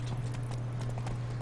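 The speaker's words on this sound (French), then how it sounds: "on fait la course à cheval" Horse hooves in The Witcher 3 beating a quick, steady galloping rhythm during a race, close and clear over a low constant hum.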